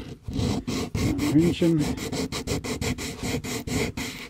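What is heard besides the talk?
sanding plastic model engine parts with a sanding block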